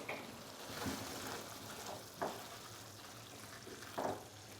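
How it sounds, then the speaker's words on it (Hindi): Dal chana frying in a pan, a steady low sizzle with a few soft scraping stirs at irregular intervals, close and fairly quiet. "हमने दाल को अच्छे से फ्राई कर लिया है"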